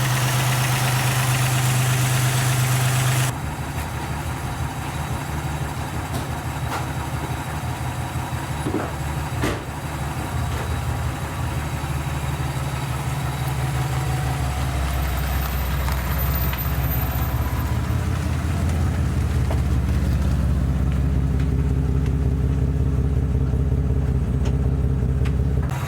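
1996 Pontiac Grand Prix with a 3.1 V6, running after a water pump replacement, idling steadily and close up for a long stretch, with a brief shift in tone early on.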